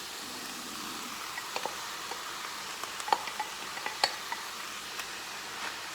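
Browned chili meat with added vegetables sizzling steadily in a pan, with scattered clicks and scrapes of a spoon stirring through it, close and fairly quiet.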